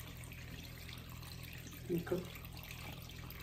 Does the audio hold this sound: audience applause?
no